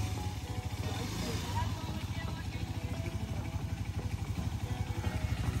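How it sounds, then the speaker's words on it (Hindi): A KTM Duke motorcycle labors up a steep hill, its engine making a steady, throbbing low putter with rhythmic pulses, moderately distant, while people talk and call out over it. "ये देख लो अभी ड्यूक आ रही है यहाँ से"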